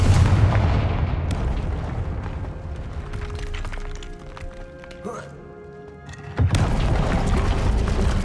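Spell explosions from a Confringo fire spell in Hogwarts Legacy, a series of loud booming blasts with crackling debris, continuous then briefly quieter before a final heavy burst, with a voice shouting a spell name over the noise.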